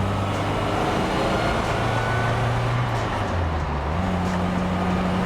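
A 1959 MGA Twin Cam engine pulls through the gears while driving, a loud steady drone whose pitch climbs, drops at a shift around the middle, then rises again, heard from inside the car.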